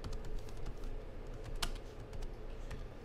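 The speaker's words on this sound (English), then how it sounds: "So if I were to type in happy birthday," Typing on a computer keyboard, with steady clicking keystrokes and one sharper key tap partway through, close up, with no voice.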